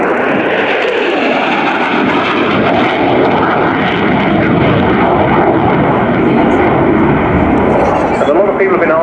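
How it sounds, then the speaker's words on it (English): A Belgian Air Component F-16 Fighting Falcon accelerates at full afterburner during an air show display, a loud, steady jet roar and rumble that holds throughout with little variation. "The aircraft accelerating at 20 knots per second."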